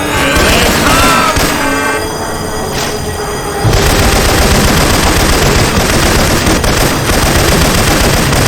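Rifle fire in Left 4 Dead 2, using Syphon Filter weapon sounds, roars as loud, dense automatic bursts that barely let up. The texture shifts briefly midway before the heavy rapid fire resumes.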